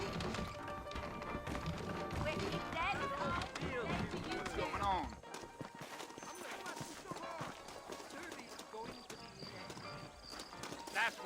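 Horses clip-clop along in Red Dead Redemption, a steady run of hoofbeats with an occasional whinny, mixed with game music and ambience, loudest in the first half before thinning out.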